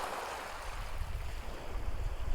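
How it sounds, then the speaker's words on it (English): Gentle sea waves washing onto a sandy beach, a continuous soft surf rumble and wash with some wind noise, no voices. "They're only gentle waves"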